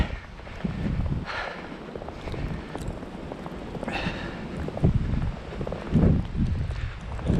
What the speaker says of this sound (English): I hope you can hear the sound of the wind in the trees.